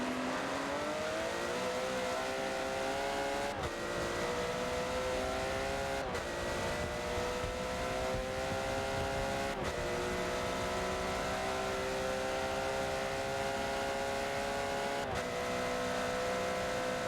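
Race car engine held at full throttle in a Daytona 24-hour racing video game, a loud sustained rising drone broken by sharp gear shifts roughly every few seconds, with no talking.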